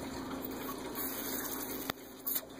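Air blown through a Kangertech Protank 2 vape tank makes a wet gargling bubble, close and steady with a few sharper gurgles near the end.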